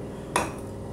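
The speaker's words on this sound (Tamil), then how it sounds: "இந்த நெய் ஒரு ஸ்பூன் எடுத்து இப்போ பாத்திரம் சூடாகிட்டுருக்கு" A single sharp metallic clink rings out as a spoon of ghee goes into a heating cooking pan, then the kitchen falls quiet again.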